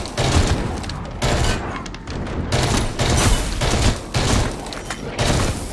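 Gunfire in the Synced video game, bursts of rapid shots, loud and close, coming in repeated volleys separated by short gaps.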